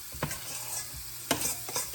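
Venison Salisbury steak patties brown in a hot pan, giving off a low steady sizzle broken by a few sharp stirring or scraping knocks, close and without speech.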